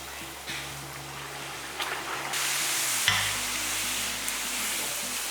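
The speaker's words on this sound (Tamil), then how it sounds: "இப்போ எண்ணெய் காஞ்சிருச்சு இப்போ அப்படியே எடுத்து இதில் போட்டுடலாம்" Chole poori dough dropped into hot oil and frying, a steady bright hiss that swells louder midway with a low bubbling undertone, close and continuous, without speech.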